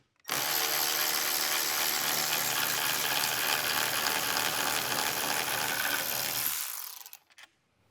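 Power tool with a T30 Torx bit spinning a factory bolt loose on a Bronco, a steady close whirring drive that runs continuously for about six seconds before stopping, with no talking.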